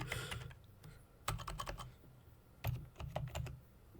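Rapid bursts of keystrokes on a computer keyboard, two clusters of clicky taps separated by a short pause, close and fairly quiet with no talking.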